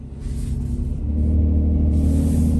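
A 2006 Nissan Murano SL with a 3.5L engine, running weak in limp mode, pulling away on a road: a steady low engine drone that rises and thickens partway through as the throttle opens, close and continuous.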